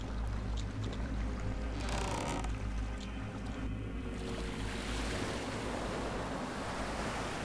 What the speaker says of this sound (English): Does that drain the water down there